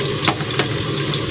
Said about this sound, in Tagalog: Kaya i-steam ko lang ito dito sa kawali. Sa sarili na rin siyang mantika maluluto.